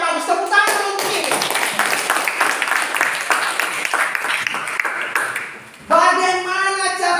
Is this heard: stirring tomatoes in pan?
no